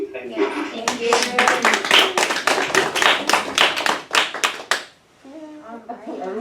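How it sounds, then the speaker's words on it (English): Audience clapping in a classroom or lecture setting: brisk, loud, rhythmic hand claps from a group for several seconds, stopping abruptly, followed by a voice speaking. "Everyone stop clapping at the same time"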